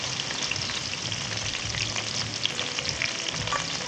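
Garlic sizzling in oil over a low flame while making Bombay mixture, a steady, even crackle with no voices.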